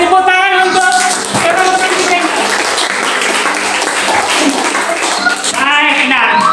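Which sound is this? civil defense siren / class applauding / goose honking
class applauding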